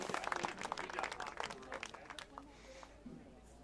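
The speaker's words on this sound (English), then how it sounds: "He walks off the field. It's a round of applause." Spectators at a boys' high school lacrosse game between Eagan and Chanhassen applaud as an injured player walks off the field. The clapping is dense and fairly distant, fading steadily over a few seconds, with a commentator talking over it.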